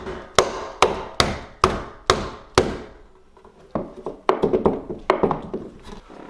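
Sharp hammer strikes drive a hinge pin out of a door, six loud evenly spaced metallic blows followed by a run of quicker, lighter taps, close by with no talking.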